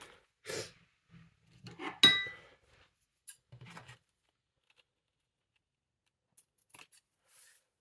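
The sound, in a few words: scissors trimming ribbon on gift wrap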